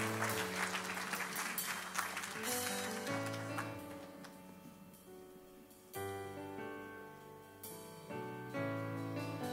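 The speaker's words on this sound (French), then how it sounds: "Alors, applaudissez-la," A church congregation applauds during a baptism service, a burst of clapping that is strongest at the start and then thins, mixed with sustained keyboard or organ music chords playing underneath.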